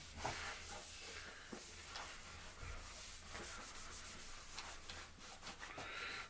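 Cloth polishing the body of an acoustic steel-string guitar in circular motions, a soft continuous rubbing hiss with gentle swells as each swirl passes, close and fairly quiet, with no talking.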